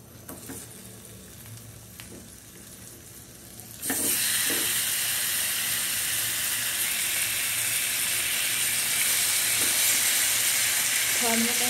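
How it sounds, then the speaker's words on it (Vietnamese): Cut pieces of snakehead fish paste drop into a hot pan and break into loud, continuous sizzling and crackling after a few quiet seconds of kitchen background. "Rồi mình chiên ha."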